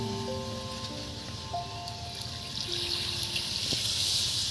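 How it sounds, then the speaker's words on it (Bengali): Water pours into a pan of rui fish curry with eggplant and potatoes, a soft splashing trickle that grows louder toward the end over a faint low hum. "এবার এর মধ্যে এই জল দিয়ে দিচ্ছি।"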